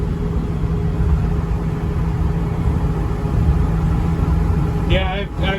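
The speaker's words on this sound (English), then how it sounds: "Yeah, we're just rolling down the highway." An old bus engine drones steadily while cruising down a highway, a loud continuous low rumble with road noise filling the interior, and a voice briefly speaking near the end.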